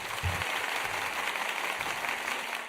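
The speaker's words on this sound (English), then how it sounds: "Round of applause." A canned applause sound effect triggered during a livestream: a short, steady wash of clapping at moderate level, uniform throughout and heard alone without talk.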